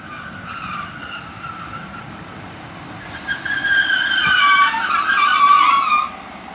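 A Class 155 diesel multiple unit, 155345, pulls out of a station, its engine swelling from a quiet rumble into a loud, rising whine with ringing tones before dropping away.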